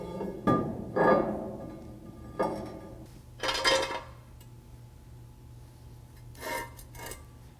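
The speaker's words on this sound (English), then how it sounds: "All right, let's get these bolts off here." Bolts being removed from a new Lion lathe's shipping pallet: several separate metallic clanks and ratcheting scrapes spaced a second or two apart, close by against a quiet background.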